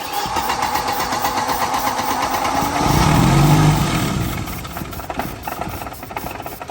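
A 1986 barn find vehicle cranks with a steady rapid churn, then catches and roars louder for a moment before settling back to a rough, uneven idle.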